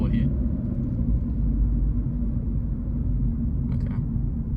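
2023 Subaru BRZ engine heard from inside during a drive, a steady low rumble holding at an even level throughout, with brief faint higher noises over it.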